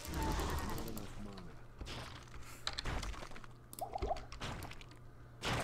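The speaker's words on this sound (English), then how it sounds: "Someone's using corpse explosion" Corpse explosion skill firing in Diablo 2 with the Median XL mod: wet, squishy bursts and crackling blasts over ongoing game noise and music, with a brief run of sharper pops near the end.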